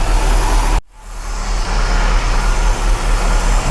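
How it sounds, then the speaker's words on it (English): A 1972 MG MGB engine idles with a loud, steady close drone while its SU carburettors are adjusted, briefly dipping before settling back. "What we're doing is we're just searching for the highest idle speed."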